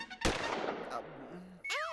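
Gunfire in a movie scene: one sharp shot cracks out, followed by a rumbling tail, a few faint tones and a whistling, ricochet-like sweep near the end.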